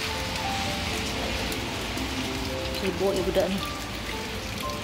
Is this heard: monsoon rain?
yes